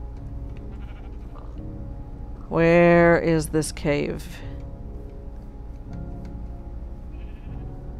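Sheep bleat in the Minecraft video game, one loud quavering bleat followed by a few shorter ones in the middle, with a person talking softly over quiet game background.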